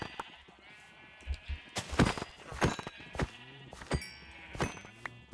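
Sheep bleating in the video game Minecraft, several short bleats at moderate distance, spaced irregularly among soft footstep-like clops, fairly quiet overall with no talk over them.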